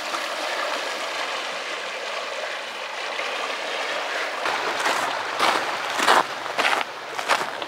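Floodwater from a spring thaw flows across a road with a steady rushing gurgle, joined toward the end by a few scuffing footsteps nearby.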